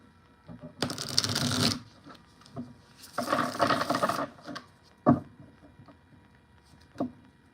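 Tarot cards being shuffled in two long riffling bursts, near and fairly loud, followed by a few soft taps and card knocks in an otherwise quiet room.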